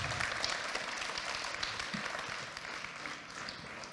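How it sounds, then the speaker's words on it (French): A crowd applauds at an April 2023 closing evening for a Web3 startup incubator, a dense, even wash of clapping that holds steady and fades slightly near the end. "Gilles, je te propose un tonnerre d'applaudissements quand même pour cette nouvelle édition"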